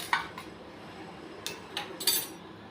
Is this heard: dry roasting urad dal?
yes